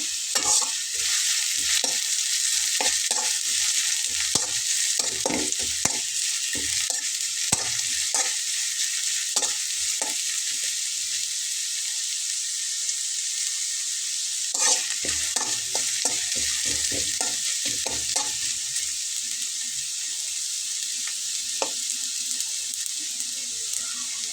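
Onions frying in oil until deep brown like birista, a bright continuous sizzle close by with frequent scraping and stirring clatter throughout.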